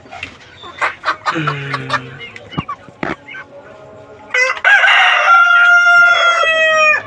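Buff Brahma rooster and hens cluck and chatter nearby, then a loud, close crow fills the last few seconds.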